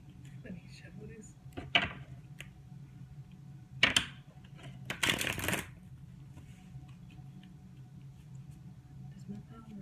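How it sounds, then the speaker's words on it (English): Tarot cards being shuffled close up, a few quick riffling bursts separated by quiet pauses, with faint low background hum. "Let me shuffle this."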